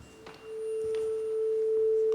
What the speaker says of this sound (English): this is a tuning fork, but you can see that looks very much like a sine wave